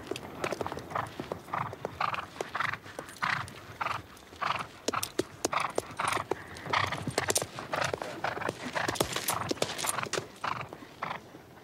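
Rhythmic clip-clop of horse hooves striking hard ground at a walk, fairly close, with an occasional snort and brief whinny.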